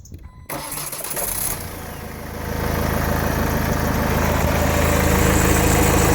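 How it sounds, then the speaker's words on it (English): Ford 2.0 TDCi diesel, in a Galaxy, S-Max or Mondeo with a newly replaced fuel filter, cranks briefly after a click, then fires and settles into a loud, steady, rough diesel idle close by that grows slightly fuller. "let's try to start the engine and see what it behaves like"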